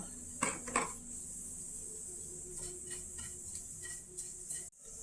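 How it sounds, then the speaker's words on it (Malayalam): Chili and coriander powder stirred into a fish curry pan, giving soft metallic clinks and scrapes in a few short bursts against a quiet hiss, close and wordless. "ഒരു ടീസ്പൂൺ മുളക് പൊടി നന്നായിട്ട് ഇളക്കി കൊടുക്കുക"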